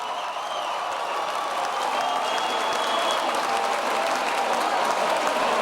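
A basketball crowd applauding during a timeout in an overtime game, sustained dense clapping with scattered cheers that holds steady and full throughout.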